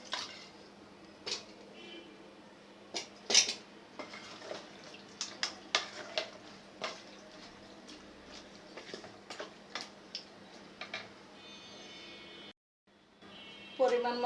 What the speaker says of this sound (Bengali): মশলাটা ভাজা ভাজা হয়েছে, এখন আমি হাঁসের মাংসটা দিয়ে দিলাম।